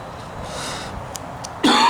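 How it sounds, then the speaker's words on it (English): A man with a tuberculosis-damaged lung breaks into a coughing fit: one sudden, harsh, close cough burst near the end after a quiet stretch of room tone. "I can start having coughing fits."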